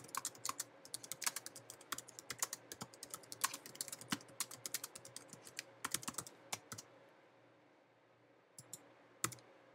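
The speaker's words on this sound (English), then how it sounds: "Type in your plans." Lesson plans typed on a computer keyboard, a quiet stream of rapid key clicks in irregular bursts, pausing near the end with a few last isolated taps.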